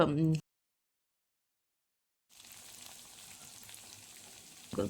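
Steady sizzling of carrots, capsicum and beans frying in oil in a pan after a pause of silence, a soft continuous crackle with brief clatter at the start and end.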